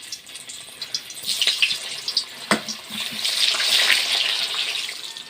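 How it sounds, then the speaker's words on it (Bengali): Potato pieces frying in hot oil, browning for an ilish biryani after the fried onions, give a steady close sizzle that swells and fades, with a sharp clatter near the middle. "এই আলুগুলো একেবারে লাল লাল করে ভালো করে ভেজে নেব।"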